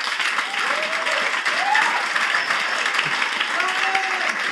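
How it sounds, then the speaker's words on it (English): Church congregation clapping for the pastor, continuous applause mixed with voices calling out over it. "Give applause now."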